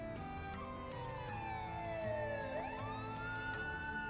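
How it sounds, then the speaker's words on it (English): A police siren in The Legend of Heroes: Trails Through Daybreak II video game wails in the distance, its pitch sweeping down and then rising again, steady and moderately faint with no voices over it. "A police siren?"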